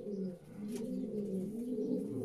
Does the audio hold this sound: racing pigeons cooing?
yes